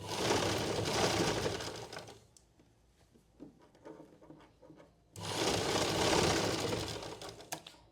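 A sewing machine stitching sleeves onto a blouse: two loud, fast, continuous bursts of mechanical whirring, separated by a quieter pause with small clicks and handling sounds, close to the microphone.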